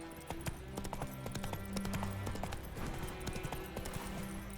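Galloping horse in The Witcher 3, its hooves beating a steady, fast clip-clop at close range over a background of game music and ambience.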